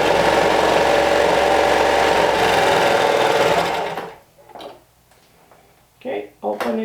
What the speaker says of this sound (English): We're matching the fold and we're stitching open the cuff all along the short end.